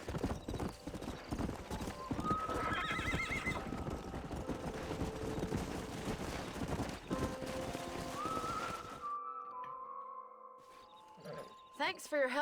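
A stallion's hooves pound at a steady gallop in Red Dead Redemption, loud and continuous under game music, then a high whinny rings out as the running stops and the scene quiets.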